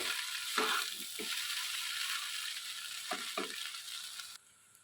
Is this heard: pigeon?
no